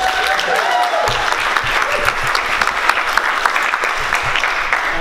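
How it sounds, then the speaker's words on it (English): Sustained applause from a conference audience at a student leadership event, dense and steady clapping filling the room throughout with a few whistles or cheers rising above it. "Give yourself a round of applause"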